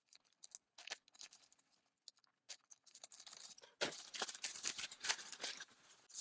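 Scissors snip and rustle through plastic packaging wrapped around an inflatable sleeping pad with a built-in foot pump, close-up crinkling and cutting sounds in short bursts that grow denser and louder toward the end.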